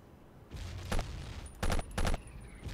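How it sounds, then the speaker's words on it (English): Gunfire in the Battlefield 1942 video game: three sharp, loud bursts of shots come in quick succession over a low hum of ambient battle noise, with a faint high electronic whine in the background. "People shooting things."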